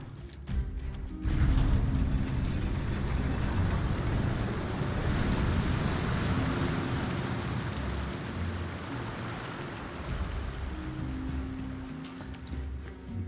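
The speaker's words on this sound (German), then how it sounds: "Dann lassen wir halt hier das Wasser auch ab." In Final Fantasy 7 Remake, draining water gushes in a steady, dense roar, loud and continuous from start to finish, easing slightly toward the end.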